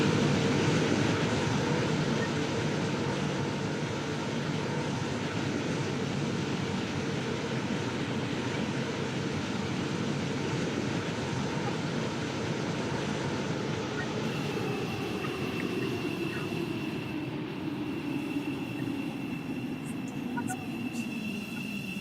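A train in the Stepford railway game rolls toward a station: a steady low rumble and drone runs throughout, close and even, with a brief tonal shift late on and no talk over it.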